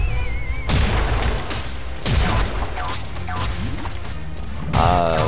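Bomb explosions and impacts in the video game Bubble Fighter: several sharp booming crashes and whooshes in quick succession, loud and close, over game effects and faint voices.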